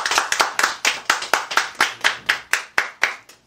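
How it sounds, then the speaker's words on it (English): A single person claps in a steady, quick rhythm, around a dozen sharp claps close by with no voices. "Clap it up one time, yo."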